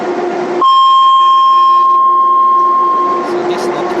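A 2200 Hz notification beep on Docklands public transport in London rings out as one long, loud, piercing electronic tone lasting a few seconds over a background rumble, then fades out.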